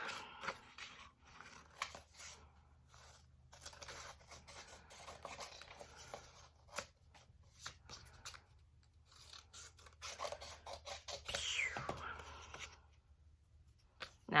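Paper being snipped with scissors to cut out a neck piece for a craft, giving soft rasping cuts in irregular bursts, fairly quiet and close, with no talking.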